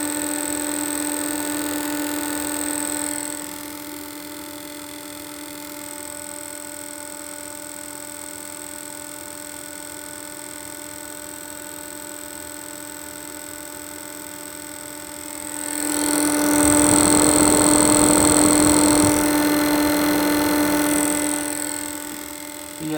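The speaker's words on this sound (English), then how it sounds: "Or it's just making the noise because it's completely clogged up with muck." A clogged 2009 Vortice extractor fan runs with a steady, droning hum and whine, nearby and constant, swelling into a louder rushing roar for several seconds near the end before easing back.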